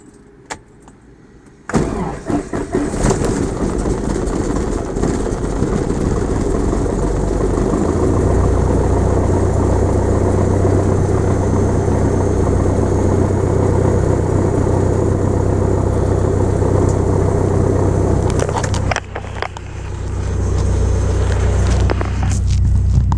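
A small airplane's propeller engine sputters to life and then roars steadily and loudly up close, with a brief dip near the end before it picks back up.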